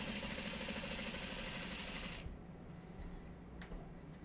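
A sewing machine runs close by in a steady whir for about two seconds, then stops, leaving a quiet background with faint clicks.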